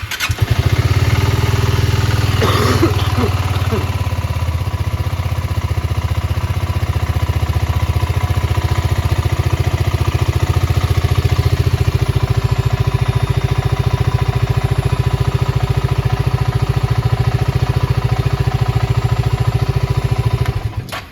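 A 2024 BSA Goldstar motorcycle idles steadily on a cold start, with a loud, close, even engine throb and mechanical clatter that holds for about twenty seconds.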